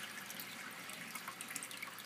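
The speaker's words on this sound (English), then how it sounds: "water gets pumped up from a pump underneath here, and then it goes through this hose up through" Pumped water flows steadily through a hose in an eight-foot breeder and display fish tank setup, making a soft, continuous trickling wash that stays fairly quiet throughout.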